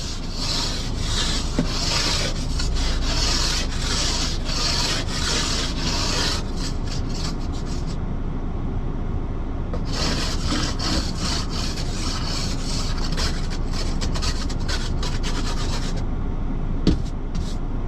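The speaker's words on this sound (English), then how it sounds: "I guess I didn't scrape the back window." Scraper rasping across a car's frosted back window, loud close rhythmic strokes running nearly continuously with a brief lighter pause midway, no talking.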